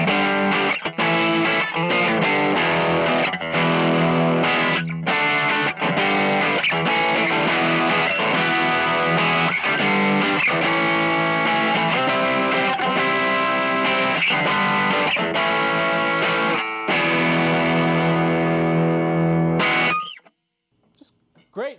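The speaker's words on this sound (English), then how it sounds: "Let's go ahead and put a little dirt in there, just the Ibanez Tube Screamer, and see what this speaker sounds like, a little rowdy" Electric guitar through a Vox AC10C1 amp driven by an Ibanez Tube Screamer plays loud, gritty overdriven chords and riffs for about twenty seconds, then cuts off into near silence.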